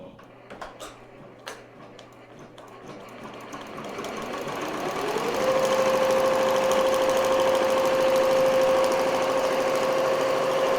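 Embroidery machine stitching a glittery double appliqué letter design, its motor starting quietly with scattered ticks, then rising into a loud, steady rapid whirring hum that continues without talk.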